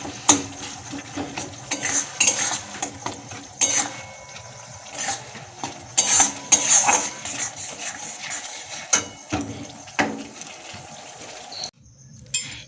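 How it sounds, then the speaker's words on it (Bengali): Potato curry masala with peas stirred in a pan, heard as irregular metal clinks and scrapes of a spoon against the pot, moderately close, with faint background noise and brief quiet gaps. "এইদিকে আলুর দমের মশলাটা কষাচ্ছি"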